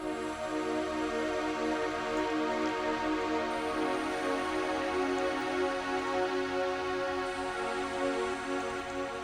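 Nexus synth pad with reverb and delay: a wide, sustained chordal wash holding steady throughout, soft and continuous with a shimmering, airy texture and no breaks.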